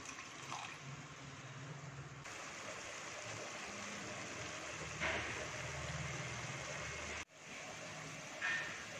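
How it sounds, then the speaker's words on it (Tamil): Half a tumbler of water goes into a pan of ridge gourd sautéing for kootu, a soft stream and sizzle that sits quietly under a faint background hum, with a few brief clinks. "இப்போ அதை வேக வைக்கிறதுக்கு ஒரு 1/2 டம்ளர் தண்ணி ஊற்றிக்கலாம்."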